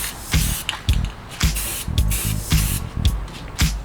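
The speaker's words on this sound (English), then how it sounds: "my usual, my favorite, my best spray paint, which is Rustoleum Metallic Finish" Rust-Oleum Metallic Finish gold spray paint hissing from an aerosol can onto furniture in a series of about eight short, sharp bursts with brief pauses between, close and loud, with no voices.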